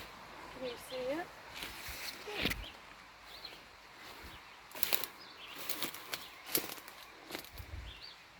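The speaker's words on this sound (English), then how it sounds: "Oh, there goes the bird." A bird bursts from its nest in a garden, wings flapping in quick close fluttering bursts amid rustling foliage and scattered scuffs.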